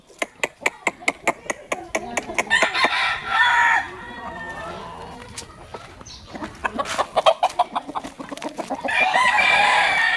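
Chickens on a rural Philippine family property cluck and cackle in quick repeated bursts, with loud rhythmic squawking series at the start and again later, mixed with rustling and faint background noise.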